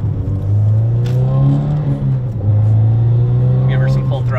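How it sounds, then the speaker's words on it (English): A Subaru WRX fitted with an aftermarket turbo inlet revs at full throttle, a steady loud engine drone rising and dipping in pitch, with a brief hiss at the end. "Give her some full throttle, she's fully warmed up."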